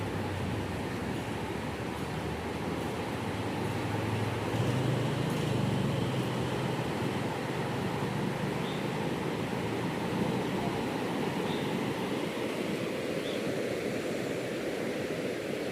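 Fast-flowing Ganges river at Narora after a storm, a steady broad rushing roar of water that holds constant throughout, fairly distant and without voices.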